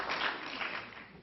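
Brief, thin applause from a small stand-up comedy audience, a soft patter of clapping that fades quickly.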